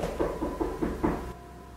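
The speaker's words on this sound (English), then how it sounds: "Someone's knocking at my door." Knocking on a household door, about six evenly spaced raps in a quick run, moderately close, then quiet room tone with no talking.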